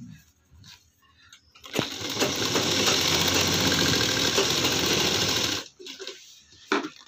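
A sewing machine stitches the corners of a ladies' purse being made at home in one steady, loud run of about four seconds, with quiet handling noises before and after.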